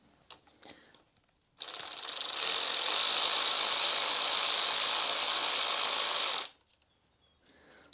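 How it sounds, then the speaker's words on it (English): A ratchet spins out a 10mm bolt on a Suzuki GSXR motorcycle, making a loud, close, steady run of rapid clicking whirr for about five seconds between quiet moments. "Just a 10mm bolt there, and then we'll just wind it out."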